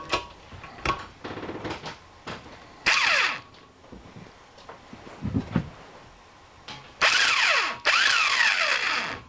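A power tool spins out bolts from a slewing bearing on a drill gear box build, several short whirring bursts of varying length, with two longer loud runs near the end, no talk over them.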